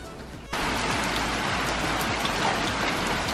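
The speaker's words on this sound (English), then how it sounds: "There's honestly so much rain." Heavy rain pours down in a dense, steady hiss, swelling louder after a moment and continuing without a break.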